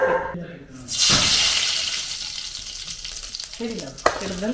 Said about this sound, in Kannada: ಸೊಪ್ಪು ಒಗ್ಗರಣೆ